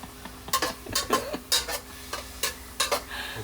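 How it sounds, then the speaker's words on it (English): A metal spatula scrapes and stirs food in a diamond pan in an RV kitchen, a series of sharp rhythmic scrapes and taps about twice a second over a soft sizzle. "I'm using one of her better pans with a metal spatula."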